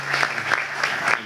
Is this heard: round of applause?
yes